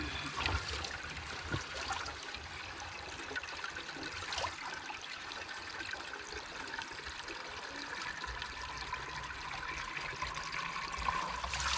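Spring water from a mountain spring pours steadily into a container, a continuous close rushing and trickling that holds an even level throughout with no talk.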